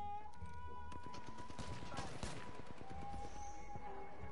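Dual shotguns firing in a video game, a dense burst of overlapping blasts that stand over constant game noise, with a person talking and laughing throughout.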